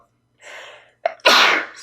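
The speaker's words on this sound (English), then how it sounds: "I have to sneeze because I'm allergic to this." A single loud, close sneeze from a man, a brief inhaled buildup followed by a sharp explosive burst, alone with no other sound.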